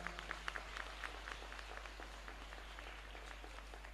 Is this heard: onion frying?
no